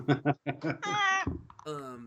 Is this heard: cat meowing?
yes